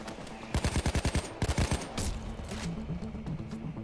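Sniper rifle gunfire in the video game Payday 2: two quick bursts of sharp, loud shots, then scattered softer game noise.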